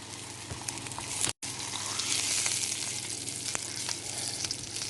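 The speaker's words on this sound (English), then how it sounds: "frying my steak" Steak sizzles and crackles steadily in a hot pan, close and continuous, with a brief dropout near the start.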